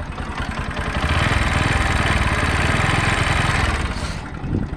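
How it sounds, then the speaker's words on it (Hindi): A Bajaj Pulsar NS 125 motorcycle engine idles nearby with a steady mechanical clatter and rattle from the chain inside, loud and continuous before trailing off at the end. "ये गाइस इंजन से नॉइज आता है।"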